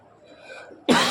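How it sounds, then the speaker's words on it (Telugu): A single harsh cough bursts out after a near-silent moment, close to the microphone and fairly loud, from a person at a Friday fasting prayer meeting. "మళ్ళీ దగ్గు స్టార్ట్ అయింది"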